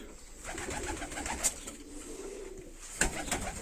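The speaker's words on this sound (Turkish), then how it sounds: "Bak sağ tarafta Burada bir hünkâr var." Hünkari pigeons and their young coo softly in a loft, low murmuring calls with a couple of brief sharp clicks, fairly faint and without talk.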